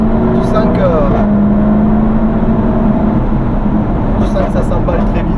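The SVR supercar's engine roars loud and close from inside, a steady deep drone as it accelerates, with a rising whine early on and voices talking over it near the end.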